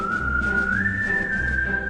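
Someone whistles one clear, sustained melodic note that slides slowly upward and then eases back down. The whistle sits close and steady over a low background rumble.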